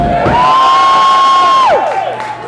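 Rock club crowd at a concert cheers and whoops loudly with applause, a sustained wall of voices and a rising shout that fades near the end.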